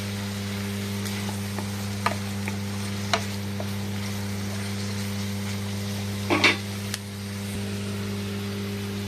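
Capsicum and curry leaves fry in a pan with a faint steady sizzle over a constant low hum, punctuated by a few light scraping stirs and one brief louder clatter.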